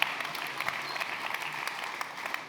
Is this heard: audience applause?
yes